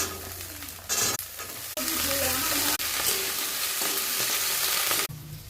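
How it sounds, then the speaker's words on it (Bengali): Peas and spring onions frying in a pan with cumin, bay leaf and dried chilli, a loud continuous sizzle broken by a few scraping stirs and brief pauses. "মটরশুঁটি আর পেঁয়াজ কলিগুলো দিয়ে দেবো।"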